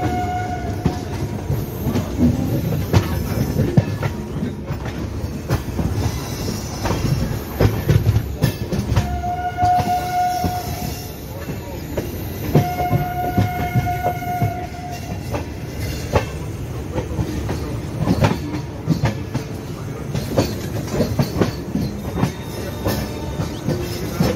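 Kolkata–Sairang Express running near Dum Dum in Kolkata: a steady, close rolling rumble of wheels and carriages with constant clatter and a few drawn-out tonal squeals, with no voices.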